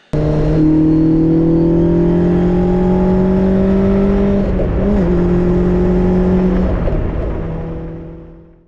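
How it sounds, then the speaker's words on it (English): A Caterham 7 450HPR High Plains Edition engine pulls hard in fourth gear on an open road, a loud, close, rising roar with smooth climbing tones that holds steady before fading out at the end. "when overtaking on the open road, I drop down to fourth, hit the gas, and the power comes in very fast"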